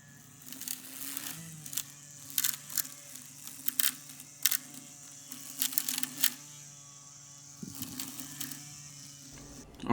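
An ECOVACS Goat O1000 LiDAR Pro robotic mower running its built-in string trimmer, giving a steady low electric hum with intermittent brief whirring bursts, fairly quiet and close, with no talking.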